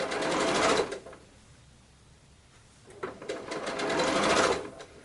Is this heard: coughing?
no